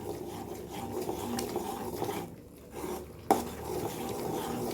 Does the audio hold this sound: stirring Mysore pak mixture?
yes